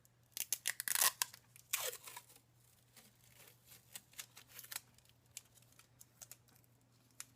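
Washi tape with a little heart pattern being handled and torn off in strips at a craft table: a crisp rip near the start, then quick crinkles, peels and light taps, close and fairly quiet throughout.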